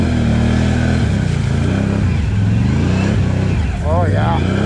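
A 2023 Can-Am Outlander XMR 1000R ATV engine drones loud and steady at close range, its pitch rising and falling as the wheels spin, with a brief higher whine near the end and people talking over it.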